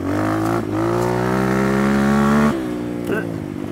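A Barton NXT 250/300 motorcycle engine hums steadily in second gear while riding, with a strong harmonic drone that holds, dips briefly, then shifts pitch near the end.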